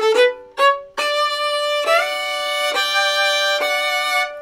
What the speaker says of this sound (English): our first phrase of the melody sounds like this.